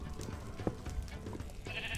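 Sheep bleating in modded Minecraft, a brief quiet bleat amid faint game background noise.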